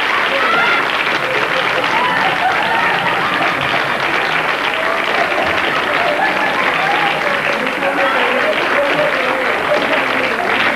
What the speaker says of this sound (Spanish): Vamos a recibirla con un fuerte aplauso, como ella se merece.